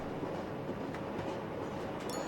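Trains rolling along tracks in the Rail Route railway management game, a steady low rumble with faint clatter and a brief higher squeal near the end, quiet and continuous with no talk.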